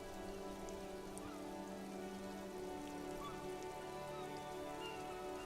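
Steady rain in the video game Disco Elysium, falling on surfaces around a city district, continuous and even throughout with scattered drops and a low ambient hum beneath.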